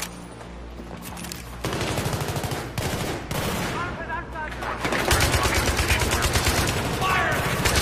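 Rapid gunfire from the player's own weapon in the Battlefield 3 shooter, Bank Plaza Takedown mission, loud and close with sustained bursts and overlapping background battle shots, partly under a man's speech.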